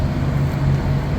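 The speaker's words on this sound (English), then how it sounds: "A lot of trucks idling this evening." Several trucks idling at a truck stop in the evening, a low steady diesel rumble heard from a short distance, continuous and even with no talk.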